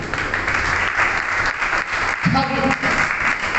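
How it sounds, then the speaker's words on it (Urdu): A church congregation breaks into steady applause, a dense, even clatter of many hands filling the room, with a voice briefly heard near the end. "تالیاں بجا دیجیے۔"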